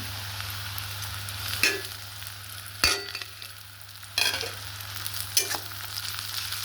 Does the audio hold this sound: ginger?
yes